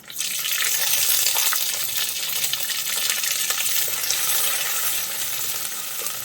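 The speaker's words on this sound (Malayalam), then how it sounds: "ഇനി ഇതിലേക്ക് നമുക്ക് ചേർക്കേണ്ടത് ചെറിയ ഉള്ളിയാണ്" Small onions hitting hot oil with mustard seeds in a pan for a soya chunks curry, bursting into a loud, dense, steady sizzle that holds throughout, close up with no talking.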